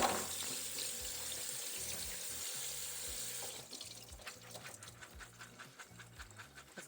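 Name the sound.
rinsing soaked ingredients in a colander under running tap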